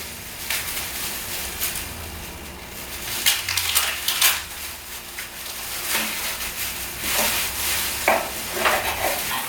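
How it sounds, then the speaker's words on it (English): Busy kitchen clatter of a knife working through food on a board, uneven taps and scrapes close by, with no talking. "I'm just gonna start chopping this up real nicely"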